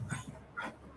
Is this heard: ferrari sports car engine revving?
no